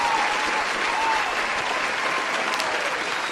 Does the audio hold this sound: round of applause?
yes